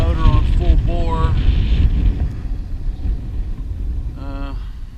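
Under heavy wind buffeting, a small outboard motor on a Pelican Bass Raider 10 boat runs at full throttle with a low steady drone, while a person talks nearby.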